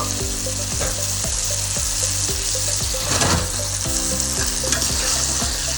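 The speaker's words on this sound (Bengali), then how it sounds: "এবারে আমি ভাজা চিংড়ি মাছগুলো এর মধ্যে দিয়ে দেব।" Fried prawns go into a hot pan of ginger and spices for a Bengali prawn malai curry, giving a loud, steady sizzle with occasional stirring scrapes under background music.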